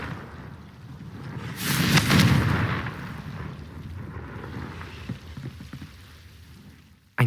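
A Confringo blasting spell explodes in Hogwarts Legacy, a loud fiery burst with a rumbling, crackling tail that swells, fades, and stays under low ambient game noise.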